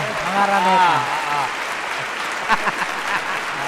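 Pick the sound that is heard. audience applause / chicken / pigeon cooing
audience applause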